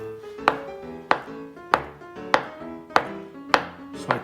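A knife cuts through a soft, peeled avocado on a board, making six evenly spaced, fairly close taps, each blade strike landing about every 0.6 seconds with no talking.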